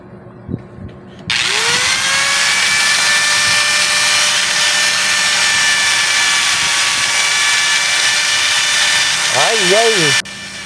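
A repaired angle grinder bought cheap from a junk shop is switched on for a test, spinning up quickly and holding a loud, steady high-pitched whine for about nine seconds before stopping.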